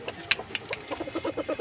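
A brooding hen sitting on eggs gives a run of soft, low, rhythmic clucks, faint and close, with a sharper squawk near the start and no voices present.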